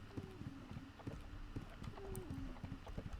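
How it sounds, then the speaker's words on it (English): Horse hooves clip-clop in an irregular, steady patter inside a video game, with a few short tonal blips layered over the hoofbeats and a faint background hum. "he had some nice horses that he just left out in the rain"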